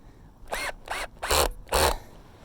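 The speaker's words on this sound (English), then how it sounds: "use the other mode, which is forward, meaning forward drill" Cordless power drill with a 5/16 bit gives four short whirring bursts, each growing louder, close up while setting the bit in forward drive for tapping a maple tree.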